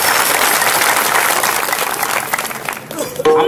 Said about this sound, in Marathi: राजांसाठी एक जोरदार टाळ्या झाल्या पाहिजे